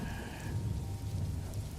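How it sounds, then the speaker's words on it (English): Heavy rain pours down steadily in a dense, even hiss of falling water, with a low rumble underneath and no voices. "I couldn't see it because it was raining too hard"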